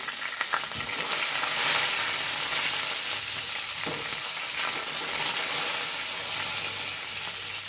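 Curry leaves and dried chillies sizzle loudly in hot oil as a tempering for a Kerala dal curry with jackfruit seeds and moringa leaves, a dense continuous fry with stirring.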